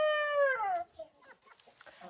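Rooster in a chicken coop gives a loud, close, drawn-out harmonic crow-like call that falls off after under a second, followed by soft scattered clucks and low coop noises.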